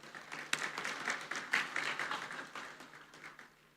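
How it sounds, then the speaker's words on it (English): Audience at a workplace awards ceremony applauds in a dense, steady round of clapping that swells and then tapers off, fairly distant and without talk over it. "a round of applause to each and everyone present here"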